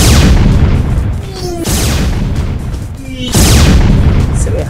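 Missile fire in the video game Super Shot comes as loud, close booming blasts in three heavy bursts, each with a rushing whoosh and short descending whistle-like tones in between.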